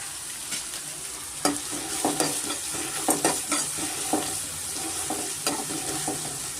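Onions roast in a pan with a constant sizzle as a utensil stirs them, giving clinking scrapes and scattered knocks at uneven intervals, close and without talk.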